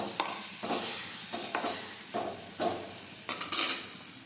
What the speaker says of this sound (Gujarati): હવે આપણે સાતળી દઈશું.